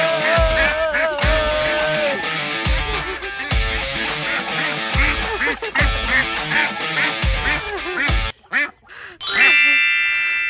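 Pekin ducks quack loudly and repeatedly in a rapid, rhythmic chorus, close by, ending with a few scattered calls and a brief clatter.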